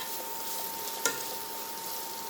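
Sliced onions sizzle in a hot pan for beef burgundy, a soft steady frying hiss with one brief crackle, and no one talks.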